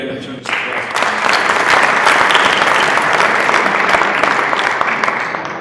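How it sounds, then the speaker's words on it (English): An audience at a Christmas dinner gathering breaks into loud, sustained applause that swells within the first half-second, holds as a thick wash of clapping for several seconds, then begins to taper off. "I think we all need to pay homage to Malala Yousafzai by giving a tremendous applause"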